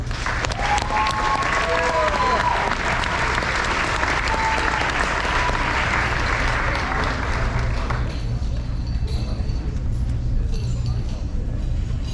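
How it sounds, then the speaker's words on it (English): Sustained audience applause at a high school senior awards ceremony, loud and dense for about eight seconds before thinning into scattered claps, with a faint voice briefly audible beneath. "Give a round of applause."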